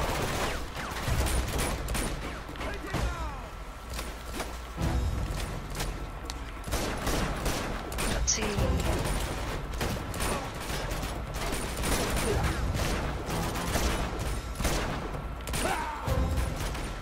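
Scattered gunshots and bursts of gunfire in Uncharted: Among Thieves ring out over about seventeen seconds, mixed with game noise and effects at moderate level.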